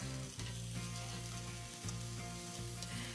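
Peppers and onion blister in a hot pan with a dense, steady sizzle and crackle of frying, plus a few soft stirring shifts, close and continuous with no talk.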